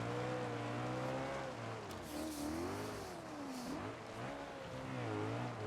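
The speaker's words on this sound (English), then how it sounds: "you can just give a few revs just to keep the turbo spooling" Naturally aspirated six-liter V8 car engine in the BeamNG driving game, revved in repeated rising and falling sweeps, loud and close, with a faint tire squeal and no talking.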